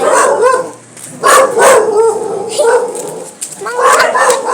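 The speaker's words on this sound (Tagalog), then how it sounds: "Kaya raming aso." Several dogs bark, yip and whimper in a scuffle, loud and close, with bursts of snarling barks coming in uneven clusters and brief lulls between them.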